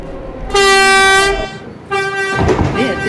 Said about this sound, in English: This is a Brooklyn-bound 4 train.